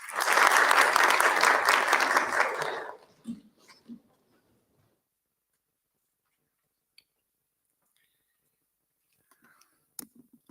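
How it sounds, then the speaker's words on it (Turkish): Audience applause at a literary award ceremony in a library hall swells loud for about three seconds, then breaks off abruptly, leaving a few faint stray claps and near silence. "Nilüfer Belediye Başkanımız Sayın Turgay Erdem'e alkışlarınızla kürsüye davet ediyorum."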